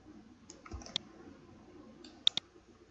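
Sharp, quiet mouse clicks in Maya, a single click near the start followed by a close double click a moment later, each crisp and isolated over a low hum of room noise.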